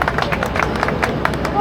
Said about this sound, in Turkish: Alkış alkış. Kompilota.